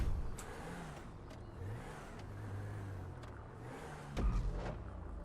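Rally car engine in the game Eclipse RP, driving and revving at a faint, distant level, with engine tone rising and falling and a few soft knocks along the way.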